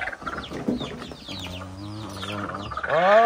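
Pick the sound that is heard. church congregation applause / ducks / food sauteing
ducks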